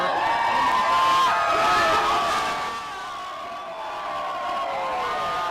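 A packed bar full of Carolina Hurricanes fans roars with a continuous wall of crowd noise and cheering during a Stanley Cup parade and rally, loud at first and settling slightly lower, with scattered voices and whoops throughout.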